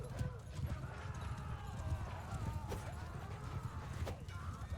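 Horses galloping in the Mount & Blade 2 Bannerlord video game during a cavalry clash, with steady rapid hoof clip-clops, some whinnies, and a voice talking over the busy battle noise.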